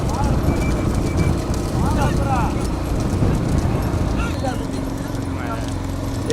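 Bulls pulling carts in a bullock cart race at Achankulam, a rapid clattering of hooves running throughout beneath a loud, continuous commentary voice.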